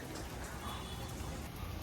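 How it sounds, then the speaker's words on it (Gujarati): Steady rain falling outdoors in a rural Gujarati household setting, a soft, even hiss of drops pattering on surfaces with no other clear sound. "વરસાદ તો ચાલુ હો"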